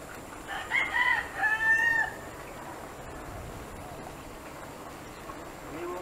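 A rooster crows twice in quick succession near the start, then only quiet outdoor ambience remains, in Naic, Cavite, Philippines.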